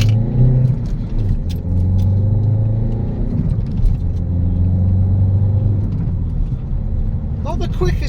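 A 2012 Citroen DS4 accelerating hard at full throttle, its engine a steady low rumble and drone with rising tone throughout, heard from inside the car with a voice speaking over it.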